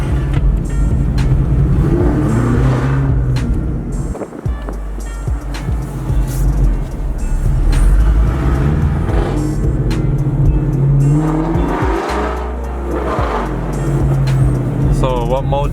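A 2017 Camaro SS 1LE with Kooks headers and a Borla ATAK exhaust, in sport mode, rumbles loudly and steadily while driving, its deep exhaust note rising and falling throughout with voices at times.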